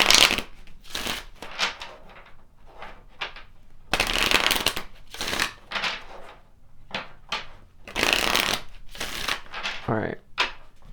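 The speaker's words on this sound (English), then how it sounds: "Let's pull some additional cards." Tarot cards are shuffled in repeated quick riffling bursts, crisp and close, with soft pauses and light handling taps between them.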